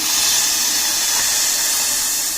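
Water is poured into sugar in a pan on the stove while making ginger candy. A loud, steady broadband hiss and rush runs close and unbroken for the whole moment.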